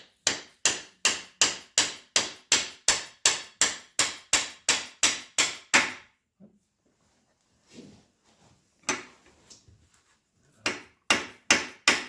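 A part on a SAJO milling machine under restoration tapped with a hammer: a fast, steady run of about eighteen sharp close knocks, a pause with faint handling sounds, then a few more taps.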